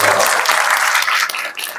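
Dense applause from an audience at a Sunday class in an ISKCON temple gathering, loud and continuous, many hands clapping together and fading slightly near the end.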